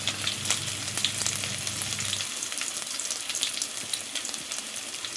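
Garlic and ginger sizzle and fry in a hot pan for an egg thoran, a steady close crackle that runs alone throughout, with a low hum fading out partway.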